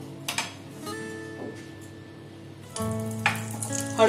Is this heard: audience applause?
no